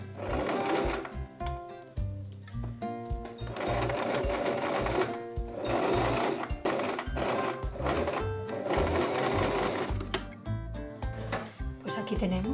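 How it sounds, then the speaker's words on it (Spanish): A sewing machine runs in close, rapid bursts, stitching a princess costume cape, its rhythmic clatter starting and stopping repeatedly while a voice talks over it. "lo tenemos que coser al revés, para que la propia aguja vaya doblando la tela que ya tenemos doblada"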